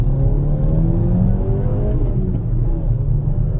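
A Volkswagen MK5 GLI accelerating, heard from inside or close by: a loud, steady engine drone with rising tones as revs climb, then a slight dip, continuous throughout without speech.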